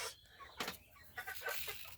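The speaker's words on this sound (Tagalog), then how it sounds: "Kulit nito mga manok." Chickens cluck in short, busy bursts at close range while being fed rice, the soft irregular calls overlapping with faint scuffling.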